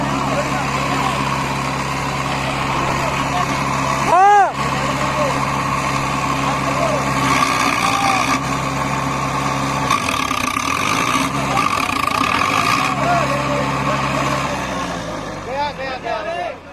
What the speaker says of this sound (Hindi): फंस गया ट्रैक्टर, फंस गया, फंस गया, फंस गया, फंस गया।